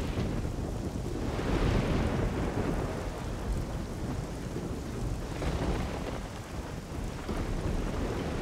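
Storm in the video game Risen 2, with heavy rain pouring steadily and deep thunder rolling and swelling over several seconds, a continuous loud wash of sound with no talking.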